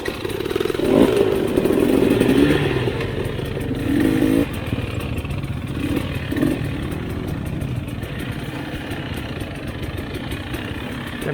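A 2021 GasGas EC 300 two-stroke dirt bike ridden on a swampy trail, its engine droning and revving steadily up close, with rises and falls in throttle throughout and no talk.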